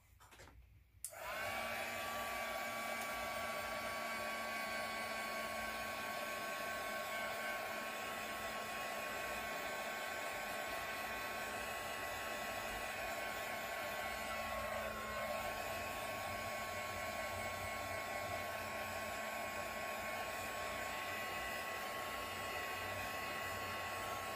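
A hair dryer blows steadily on a handmade craft leprechaun hat, switching on after a brief pause and running loud and continuous with a constant whine, a slight dip in tone midway as it shifts.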